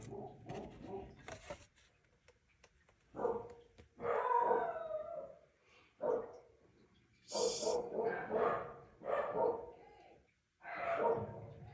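Dogs upstairs bark and howl in excited bursts, several loud stretches of yelping and drawn-out howls with short quiet gaps between them.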